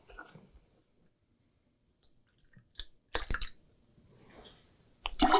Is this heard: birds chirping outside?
no